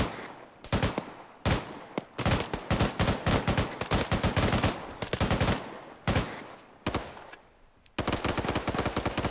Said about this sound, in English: I hear shots now